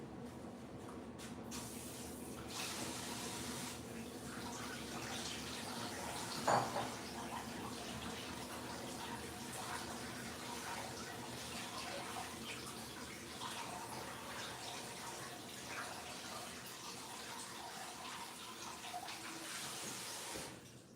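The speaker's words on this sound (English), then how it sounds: "I'm just sort of rinsing these off." Strawberries are rinsed under a running kitchen tap, a steady close wash of flowing, splashing water that continues throughout, with one brief clunk partway through and no talk.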